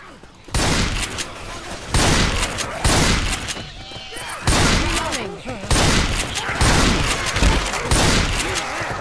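Video game gunfire erupts in loud, dense bursts of rapid shots, several separate volleys split by brief pauses, close and harsh.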